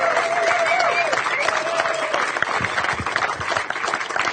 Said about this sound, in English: give yourselves a huge round of applause for that.